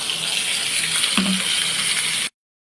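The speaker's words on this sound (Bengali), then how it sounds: "ইলিশ মাছ ভাজছি আর সর্ষে দিয়ে করবো" Hilsa fish frying in hot oil, a steady broadband sizzle with a brief low bubbling flare midway, close and continuous before cutting off abruptly.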